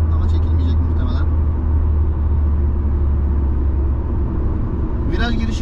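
An Audi A3 1.6 with a 102 hp 8-valve engine accelerates through a bend, a loud, steady, low cabin rumble with brief bits of a voice near the start and end.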